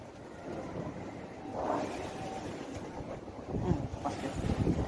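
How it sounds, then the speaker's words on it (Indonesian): Strong wind buffeting the microphone on a fishing boat at sea, a continuous rushing roar with gusts that swell louder toward the end, close and steady. "Wow, anginnya sangat kencang."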